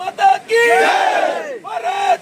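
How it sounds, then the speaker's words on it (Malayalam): Crowd of locals chants slogans in loud unison bursts to welcome army troops at the Wayanad landslide rescue near Chooralmala's Bailey bridge, three surging shouted calls close by with brief gaps between them. "സൈന്യത്തിന് വലിയൊരു മുദ്രാവാക്യം വിളികളോടെ കയ്യടികളോടെ സൈന്യത്തെ സ്വീകരിച്ചിരിക്കുന്നു ജനങ്ങൾ"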